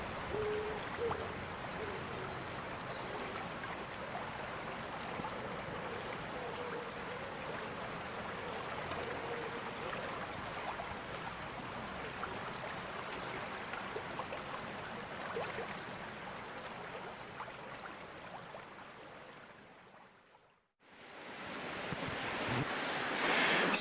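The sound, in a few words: River Tay flowing water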